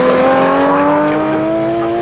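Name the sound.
race car passing on the circuit at Snetterton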